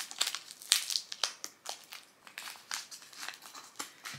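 A plastic bag bound in tape crinkles and crackles in quick, irregular bursts close up as it is pulled open and unwrapped from a book parcel.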